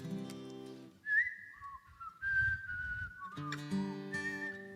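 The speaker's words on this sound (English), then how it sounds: "Let's see if I can whistle." A person whistles the opening riff of a song, a clear melodic line with sliding notes, heard alone and close in a theatre.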